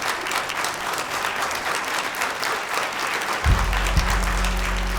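Audience applause in a talent show audition studio, sustained clapping from a large crowd, loud and continuous, joined near the end by a low musical swell beneath it.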